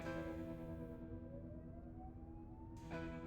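Faint police sirens in the video game Sally Face, a slow rising wail over a steady low ambient hum, distant and quiet throughout.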